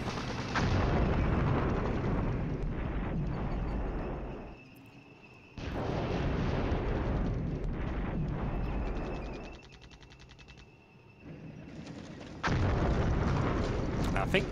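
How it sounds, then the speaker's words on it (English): Artillery fire rumbles in the Flashpoint Campaigns: Southern Storm wargame, heavy dense blasts and booming barrages in long loud stretches broken by brief quieter gaps. "I think the HQ received some artillery there."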